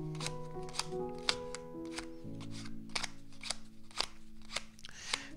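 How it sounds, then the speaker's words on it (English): Playing cards are shuffled overhand in a quiet room, a series of sharp dry slaps and riffling snaps repeating roughly every half second over soft background music. "Shuffling like a pro."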